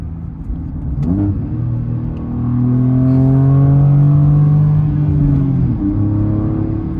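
Revving from a BMW M4 G82 fitted with a REMUS exhaust in sport mode, valves open: a deep, close engine rumble that climbs and holds higher, then settles back, with no talk over it.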